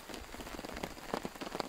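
Heavy rain pours onto a forest camp with a tarp shelter, giving a close, steady patter of drops striking surfaces, a few louder splats standing out, and no talk.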